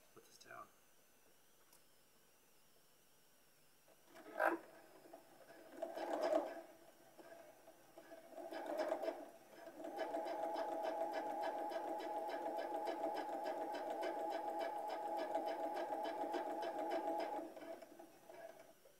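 A sewing machine stitches test fabric for face masks, a steady close rhythmic whir running continuously for the last several seconds after a few short bursts and handling clicks.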